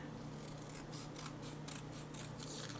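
Scissors cut around the paper border of a scrapbooking card in quick, faint repeated snips with a soft, steady rasp beneath them.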